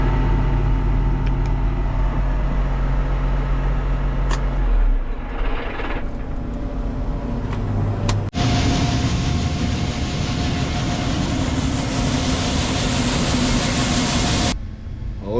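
Steady drone of a Case IH Magnum tractor engine working through a corn field at harvest, a continuous low rumble heard from inside the cab with shifting mechanical whine and a louder, brighter roar toward the end.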